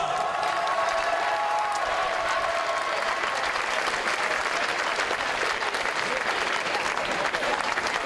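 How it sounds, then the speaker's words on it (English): A crowd applauds a paraclimber being introduced at the Paraclimbing Final of the 2012 IFSC Climbing World Championships in Paris, with steady dense clapping throughout at a loud level and some tonal sounds near the start. "le public, applaudissements pour Noël Collin"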